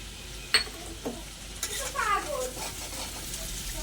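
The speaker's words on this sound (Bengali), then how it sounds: "জল দিয়ে মশলাটা ভালো করে কষে নেব।" A spice paste for a soybean and egg curry sizzles in a pan after a splash of water, with scraping stir strokes and a few sharp utensil clinks close by over a steady frying hiss.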